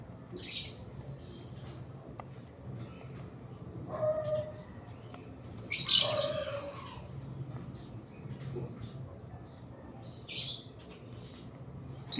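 Two baby birds give short squeaky chirps and squawks in scattered bursts, close but faint over a quiet, low background hum.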